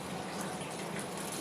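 Water running steadily from a kitchen tap while pak choy is washed, a constant close hiss of flow with no voices.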